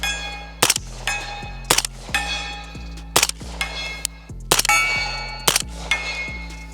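A magazine fired at targets with an MH-1 weapon light mounted: about eight sharp, loud gunshots, spaced irregularly with ringing decays between them, no talk.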